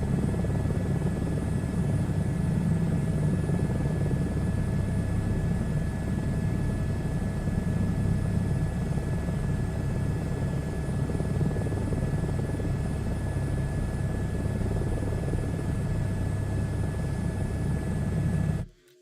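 A helicopter in Microsoft Flight Simulator 2024 drones steadily and loudly, its rotor and engine forming an unbroken, even hum that cuts off abruptly at the end.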